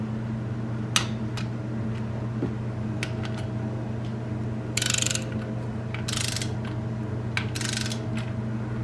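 A torque wrench ratchets on oil pan bolts during an LS engine oil pan install. There are a few short bursts of clicking and scattered metallic taps over a steady mechanical hum.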